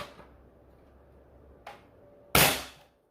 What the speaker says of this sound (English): So easily a 300 FPS cap blaster with the strongest spring in it.